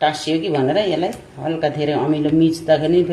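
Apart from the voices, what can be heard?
No everyday noise stands out behind the speech.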